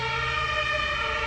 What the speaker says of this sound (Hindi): फायर ब्रिगेड अलार्म से ऐसे लग रहा था जैसे एम्बुलेंस है ना।